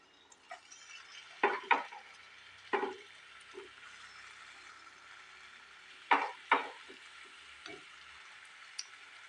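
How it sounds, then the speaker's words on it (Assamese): Assamese pitha frying in a pan, with a soft, steady sizzle running throughout and louder scraping and clinking of utensils against the pan coming in short bursts, no voices. "এতিয়া মই 2 নম্বৰ পিঠাকেইটাও এইদৰে ভাজি লওঁ"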